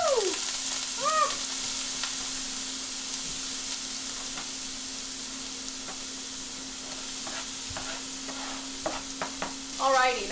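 Chopped onion and beef fry in a pan with a steady sizzle, broken by the scrape and clatter of stirring, heard close with a faint background hum and no talking.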